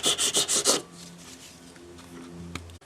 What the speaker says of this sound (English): Get down in the grooves, just by using the edge of your sanding stick.